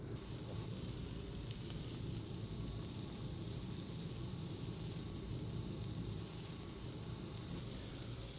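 Seasoned food, laid seasoned side down in a hot pan, sizzles with a steady, dense frying hiss that holds evenly throughout, close and moderately loud, without talk.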